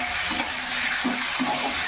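Spices sautéing in a small amount of oil for a chicken stew give a steady, close sizzle with a few soft stirring strokes, no voices.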